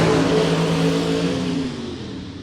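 Gasser drag race cars roar at full throttle down the dragstrip at Mt. Olive Dragway, a loud, steady engine howl with strong low harmonics that slowly drops in pitch and fades as the cars pull away.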